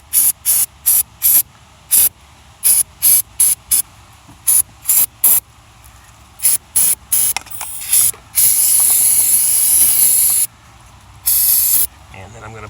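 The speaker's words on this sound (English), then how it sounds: "I'm going to spray a bit of cleaner" An aerosol can of cleaner sprays onto a Mercedes intake manifold pipe opening in a series of short, sharp hissing bursts, then two longer continuous blasts, loud and close.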